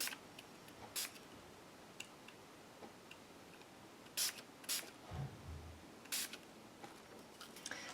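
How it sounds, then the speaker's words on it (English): Several short bursts of spray paint hiss, each under a second, separated by pauses against a faint background. "I'm just going to spray a little bit"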